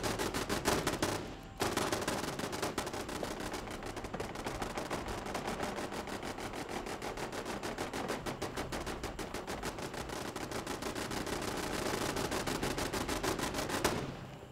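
Turret gunfire in a video game, a dense continuous stream of rapid automatic shots that runs loud and steady for nearly the whole stretch, with a brief pause near the start and no talking over it.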